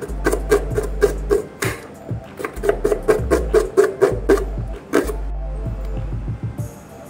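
A knife slices vegetables on a board, cutting straight thin slices for a chicken tortilla wrap. The knocks come close and clear in quick irregular runs, with brief pauses and low thuds between them, and no one talks.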